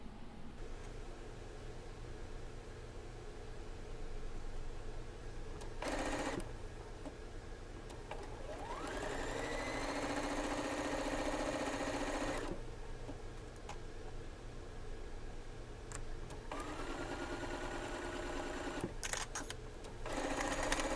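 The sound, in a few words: sewing machine stitching a quilt block seam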